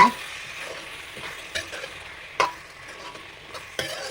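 Chicken ghee roast in a pan, quiet low sizzling with a few sharp scrapes and taps of a spoon stirring at irregular intervals, no talk.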